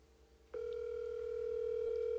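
A telephone line heard through another phone held up to it gives a faint, steady single electronic tone that starts suddenly and holds without a break, with no talk over it.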